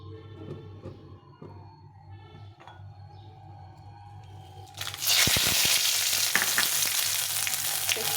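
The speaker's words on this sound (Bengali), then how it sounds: "গোটা গরম মশলা তেজপাতা শুকনো লঙ্কা আর একটু জিরে সাদা জিরে এটা ফোড়নে দেব" Whole garam masala, cinnamon, bay leaf, dried red chilli and cumin seeds hit hot oil halfway through, setting off a loud, close, continuous sizzle after a few quiet clinks and kitchen sounds.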